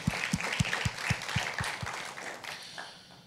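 A church congregation claps in a fairly steady rhythm, the loud rapid applause gradually thinning and fading away, heard at some distance.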